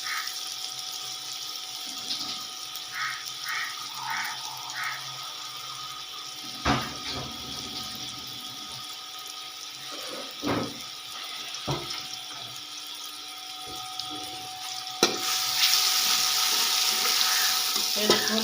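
Water is poured into a pan while aloo keema cooks, giving a soft continuous hiss and splash over a faint sizzle, with a few light clinks and stirring knocks along the way.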